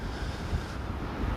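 Strong wind rushing steadily across the microphone on a sand-dune beach in Anapa on the Black Sea, in a low, continuous roar, with no voices present.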